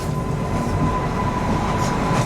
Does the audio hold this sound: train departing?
yes